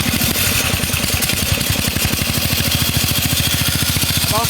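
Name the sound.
1966 Bolens 1050 garden tractor engine running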